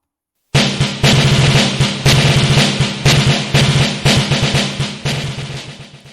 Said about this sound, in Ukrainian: Вірно, барабан послухайте, як звучить барабан